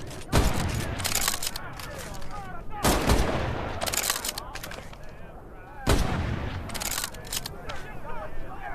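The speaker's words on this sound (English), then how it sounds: "The K98 is a bolt-action rifle, so you reload by pulling and pushing the bolt after each shot." K98 bolt-action rifle shots ring out in the Medal of Honor: Above and Beyond VR game, three sharp loud cracks spaced a few seconds apart, with metallic bolt clatter and rattling between shots.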